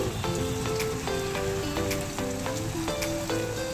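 Ginger garlic paste and cumin powder frying in hot oil for a village-style soybean and potato curry, a steady close sizzle with light crackling and faint tonal background sounds, no talking.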